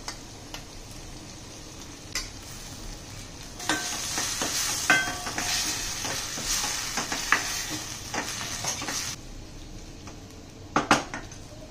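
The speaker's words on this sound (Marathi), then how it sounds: "आता ही डाळ जी भिजवलेली आहे अर्धा तास ती आता आपण ह्याच्यात घालणार आहोत" Soaked moong dal goes into a hot pan and is stirred, giving a soft sizzle with scraping and clinking of a spoon against the pan in irregular bursts.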